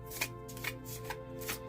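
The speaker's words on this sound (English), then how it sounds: "cards are kind of hard to shuffle" Round oracle cards are shuffled by hand, giving a few soft, irregular riffling and tapping bursts close by over a low steady hum.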